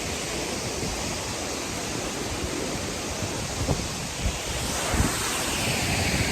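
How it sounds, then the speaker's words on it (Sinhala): Water pours down Upper Babarakanda waterfall in Sri Lanka as a dense, constant rushing roar with wind noise on the microphone, a few soft thumps rising briefly out of the wash, no one speaking. "ඊට වැඩිය වතුර පාරක් තව පොඩ්ඩක් සැර වෙලා තියෙනවා මෙතන ඇල්ලෙන් වැටෙන එක"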